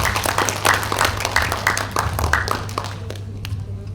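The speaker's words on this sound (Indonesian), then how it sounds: "Tepuk tangan untuk BPR Jatim dan para petani." Audience applause at an economic forum in Lumajang, after a farmers' credit programme is announced: dense, steady clapping with scattered sharp claps over a low hum, thinning out toward the end.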